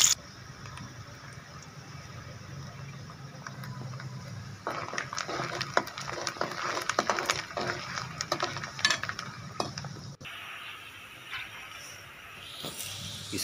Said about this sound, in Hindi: घी में सबसे पहले प्याज डाल देने